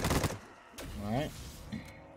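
Gunfire in Black Ops 3 custom zombies on the Viking Tower map: short bursts of shots under someone talking, with a brief burst at the start and more firing mixed in with his voice.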